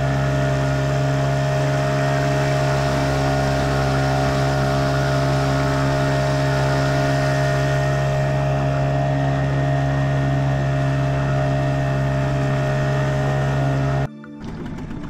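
An outboard motor on an inflatable Zodiac boat runs on a wild river during a fishing trip. It drones steadily and loudly for about fourteen seconds, then drops off abruptly near the end.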